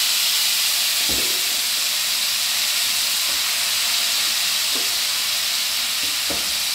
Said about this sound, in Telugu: ఆయిల్ కొంచెం హీట్ ఎక్కింది కదా. ఇప్పుడు మనం ఈ లివర్ అంతా దీంట్లోకి వేసేద్దామండి